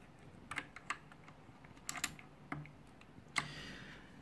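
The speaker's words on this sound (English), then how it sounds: "a blue switch keyboard." Typing on a Titan Mark 7 mechanical keyboard with blue switches, a handful of sharp clicky keystrokes spaced irregularly, fairly faint and close, with no talking.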